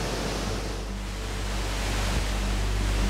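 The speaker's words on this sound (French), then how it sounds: "Une vue spectaculaire sur les chutes du Mékong" The Mekong waterfalls roar as a dense, steady wash of falling water, broad and constant with no breaks, filling the whole moment without voices.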